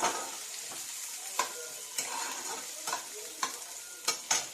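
Garlic frying in hot oil until golden brown, a soft steady sizzle broken by several sharp scrapes and knocks of a spoon stirring against the pan.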